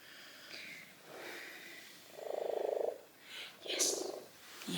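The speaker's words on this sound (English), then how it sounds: "his purr is still very, very loud" A cat purrs loudly while cuddling, the rhythmic rumble swelling in close bursts, with breathy snorts and soft sniffs between them.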